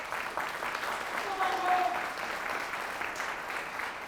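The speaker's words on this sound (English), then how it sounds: "How about a nice round of applause for them?" Audience in a school game-show setting claps for the North Boone Vikings team, a steady, somewhat distant wash of applause lasting several seconds with a faint tone under it.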